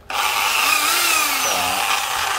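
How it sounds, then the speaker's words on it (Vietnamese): A dual-function 220V electric wood drill with a 13 mm chuck, variable speed and reverse runs loud and steady with a whining motor drone, its pitch sliding slightly. "con khoan gỗ hai chức năng"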